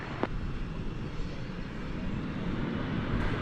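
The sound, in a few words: airplanes at DFW Airport, including an E-jet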